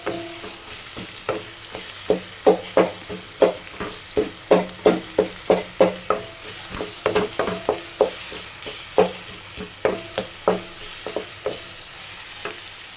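Urad dal and toor dal fry in a pan for drumstick leaf thokku under a low steady sizzle, punctuated by regular scraping stir strokes roughly twice a second, close by and without speech.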